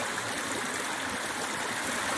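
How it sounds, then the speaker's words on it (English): Steady, full rush of a desert stream flowing near Darwin Falls in Death Valley, continuous and close with no voices. "I caught the sound of the water here."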